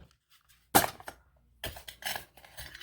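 Stainless steel Bushpot and skillet camping cookware clank as gear is packed inside, a sharp metallic clink followed by a cluster of rattling knocks after a quiet pause.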